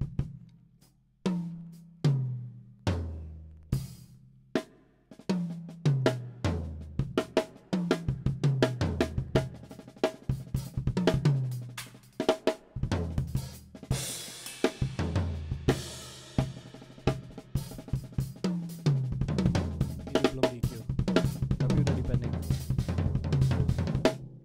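A raw drum kit recorded without EQ plays alone: punchy kicks and toms with sharp attacks, then busier hits with crashing cymbals, sounding dry and unpolished.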